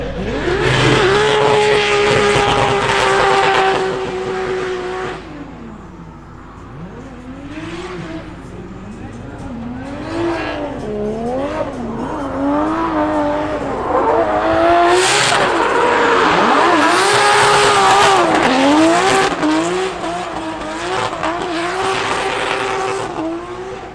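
A 2JZ-powered Nissan S15 drift car engine revs hard in second gear and wails up and down, with tire squeal and voices talking underneath.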